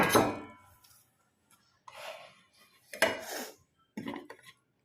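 Dishes and cutlery clink and scrape in short bursts while rice is served at home, with a few separate clatters at close range and brief quiet gaps between them.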